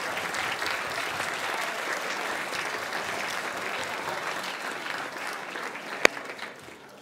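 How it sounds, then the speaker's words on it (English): A banquet crowd at a band awards dinner gives sustained applause for solo and ensemble participants, dense and even for about six seconds before tapering off, with one sharp knock near the end. "District Soul and Ensemble participants. Stand up. Round of applause."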